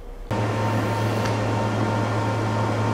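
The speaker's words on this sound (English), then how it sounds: "they can convert that from a horrifically noisy server room like this" Steady, loud hum of fans in a noisy server room, starting abruptly after a brief quiet moment and continuing unchanged as a constant drone with a strong low tone.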